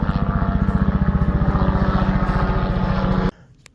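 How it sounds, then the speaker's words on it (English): A big helicopter flies low overhead with a loud, rapid, steady thudding of rotor blades and a heavy engine roar, which cuts off abruptly near the end. "I hear a big old helicopter."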